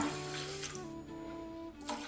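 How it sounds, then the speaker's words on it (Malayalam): Water is poured into a pot while herbal hair oil is prepared at home, a steady running, filling rush that holds close and continuous for about two seconds. "ഇനി ഇതിലേക്ക് ഒരു ഒന്നര ഗ്ലാസ്സും കൂടെ വെള്ളം ഒഴിച്ചു കൊടുക്കണം"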